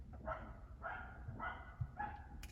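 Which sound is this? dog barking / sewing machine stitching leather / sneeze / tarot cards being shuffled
dog barking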